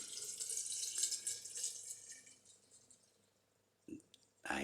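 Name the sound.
pouring spirit liquor over currants in jar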